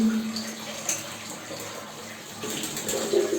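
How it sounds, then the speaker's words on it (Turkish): Water flushing steadily out of a home central-heating radiator during cleaning, a continuous gushing and splashing flow with a few small spikes, close and moderately loud with no voices. "Suyu berrak olana kadar böyle akacak"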